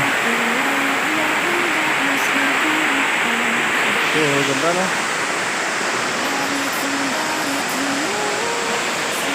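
Kapnayan Falls pours as a loud, steady wash of broadband rushing water, constant and near throughout, with a voice talking briefly over it.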